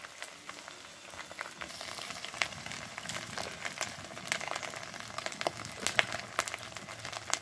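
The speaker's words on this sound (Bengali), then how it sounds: "ডিমটা একটু ভাজা ভাজা করে নিতেছি।" Egg with chopped onion fries in a pan, crackling and popping irregularly over a continuous sizzle, with sharper spits scattered throughout and no voices.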